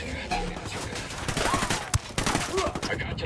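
Gunfire in Ghost Recon Wildlands, a dense spread of shots crackling through a busy game battle mix, with one sharper burst standing out midway and an unintelligible voice faint underneath.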